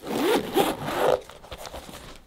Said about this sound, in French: donc il s'ouvre avec une fermeture éclair